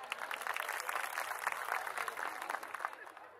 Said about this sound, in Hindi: इनका हौसला बढ़ाएं तालियों के साथ